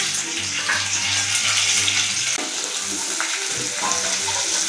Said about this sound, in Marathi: पहिले कांदा फ्राय करून घ्यायचा तेलात